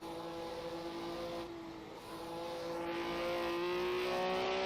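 A 1967 Eagle F1 race car with open intake trumpets and a straight side exhaust, driven in a racing video game with an H-shifter, holds a steady buzzing engine drone whose pitch climbs slightly as it revs higher toward the end.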